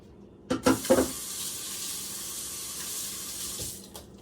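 A kitchen faucet runs into a sink while hands are washed, opening with a few splashy bursts, then a steady stream of running water, alone and close.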